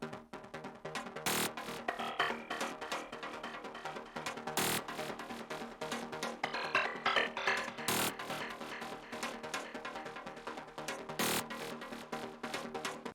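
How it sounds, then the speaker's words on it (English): Dense electronic glitch sequences from a track: rapid stuttering plucks and rolling patterns, broken by sharp bursts every few seconds, loud and continuous without talk. "which is basically the glitch sequence that I use throughout the whole track"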